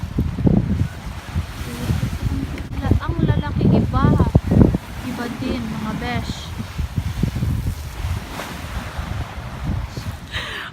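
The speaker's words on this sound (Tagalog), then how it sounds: "gusto kong ipakita sa inyo kung gaano kagalit yung dagat" Rough, angry sea crashing on the shore with strong wind, a loud, steady roar of surf and buffeting microphone wind noise throughout, while someone talks over it.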